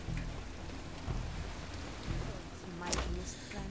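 Rain falling steadily in the video game Marvel's Midnight Suns, a soft continuous patter with a low rumble underneath and a brief sharper splash near the end.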